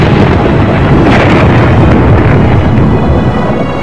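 A deep, loud rumble of thunder rolls continuously, dense and booming, with no voices present.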